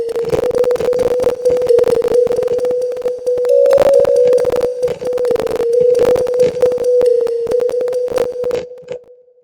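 A smooth, sustained guitar line from a self-made song plays steadily and loud on its own, holding a clear tone throughout with busy accompanying parts before fading at the very end.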